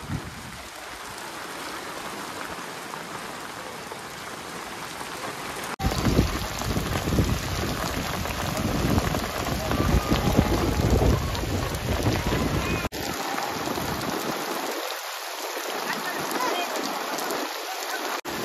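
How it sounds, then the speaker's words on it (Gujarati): Heavy rain with strong wind on a farm field, a loud continuous roar of rain and gusts buffeting the microphone, swelling midway and staying dense throughout. "હવે વરસાદ આવ્યો છે બરાબરનો"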